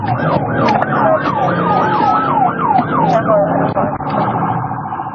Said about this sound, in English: 18-year-old Armando Vinaja managed to steal an ambulance from the Palestine Regional Medical Center and then lead police on a high-speed chase.